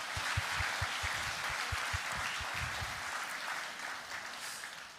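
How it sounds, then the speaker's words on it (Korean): A church congregation at a dawn service applauds together, a steady wash of clapping from a sizeable crowd heard at moderate distance, fading slightly toward the end. "우리 부모님들에게 힘찬 박수의 격려를 보내겠습니다"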